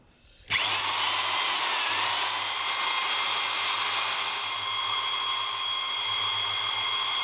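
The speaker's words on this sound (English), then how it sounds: "Like a pinhole drill to begin with," A drill bores pilot holes in copper pipe for a campervan shower light, starting after a brief quiet moment and then holding a loud, steady, high whine to the end with no talking.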